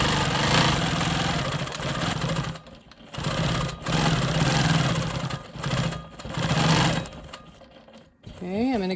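Sewing machine stitching smoky swirl quilting on a rolling stone quilt block, running in steady bursts that stop and start several times, loud and close, with brief pauses between runs.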